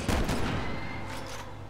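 A volley of gunfire from the Resident Evil 6 game rings out up close, a dense opening burst of shots that fades into a softer, rumbling tail.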